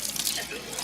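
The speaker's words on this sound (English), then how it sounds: "Get yourself a little splash of cold water." Cold water poured into a pot of cowboy coffee, a brief steady splashing gush heard close up with nothing else around it.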